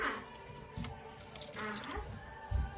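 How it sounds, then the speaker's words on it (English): Water poured into a plant pot filled with LECA clay pebbles, giving soft trickling and dripping sounds with a few louder splashes near the end. Recorded close up, with no talking. "There's a little bit of water in there, so I'm gonna water that one."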